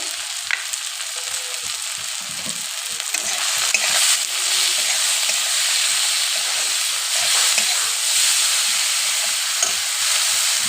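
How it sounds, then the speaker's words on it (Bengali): A spice paste of cumin, coriander and chilli powder with a little water fries in a pan for aloo dum, sizzling and hissing steadily and loudly up close while a spatula scrapes through it in a regular stirring rhythm. "এই মশলাটা ভালো করে কষিয়ে নেব"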